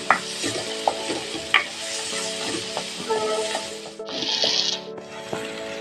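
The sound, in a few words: mixture with green chillies being stirred and fried in pan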